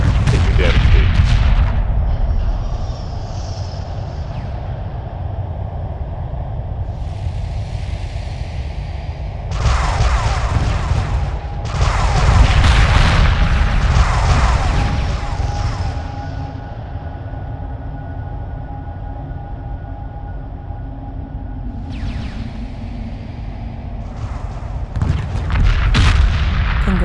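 Weapons fire rumbles and booms through a space battle in Homeworld Remastered, with dense, sustained barrages of blasts and bursts that swell and fade over a constant loud background.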